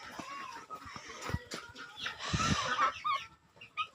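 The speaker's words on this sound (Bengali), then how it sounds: "মুরগিগুলো দেখুন কতই" Farm chickens cluck and murmur at moderate distance, with scattered sharp knocks and a louder burst of squawking midway, the birds busy around feed.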